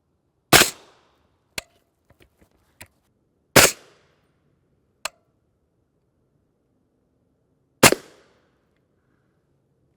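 Subsonic 8.6 Blackout rifle with a 12-inch barrel and a Q Pork Chop muzzle device, firing Hornady bullets outdoors: loud, sharp shots spaced seconds apart, with smaller clicks between them.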